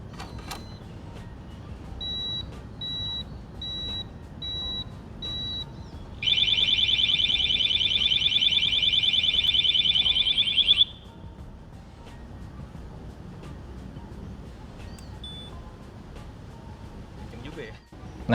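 A Cranns VP6 motorcycle disc lock alarm, first a series of short evenly spaced beeps, then a loud continuous piercing shriek lasting several seconds before it cuts off, with faint background noise and a brief chirp afterward.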